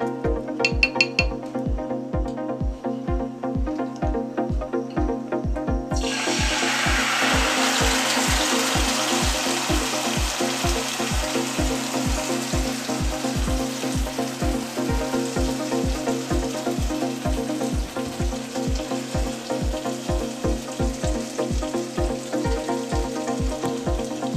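Marinated prawns are poured into a wok of fried spices for a Bengali-style chingri dish, setting off a sudden loud sizzle a few seconds in. The hiss holds steady over an even, rhythmic thumping that runs the whole time.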